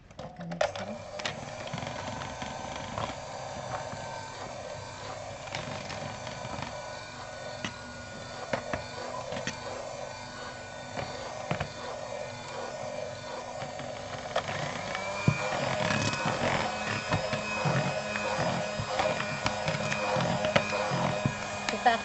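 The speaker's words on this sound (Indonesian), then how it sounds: "Kita akan campur mixer ya, supaya terigunya itu merata ya" Electric hand mixer whirring steadily through cake batter of eggs, flour and cocoa powder, a continuous motor drone with rattling beater noise that grows louder and harsher near the end.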